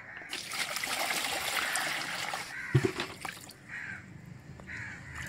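Water poured and trickling over fish being washed in a bowl in a home kitchen, a steady splashing flow that pauses briefly then resumes, with crows cawing outdoors in the background.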